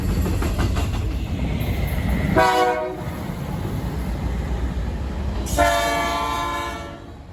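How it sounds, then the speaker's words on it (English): An Amtrak Empire Builder at a station platform, a loud steady rumble of the passing train with two long blasts of its horn, the second starting partway through and holding to the end. "Much to my surprise, Amtrak arrived half an hour early"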